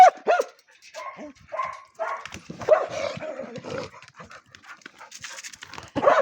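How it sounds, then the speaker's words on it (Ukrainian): A small dog yelps and pants in short, uneven bursts after a fox grabs it by the tail during rough play, the cries close and loud with brief pauses between them. "його за хвоста, він аж кавчить"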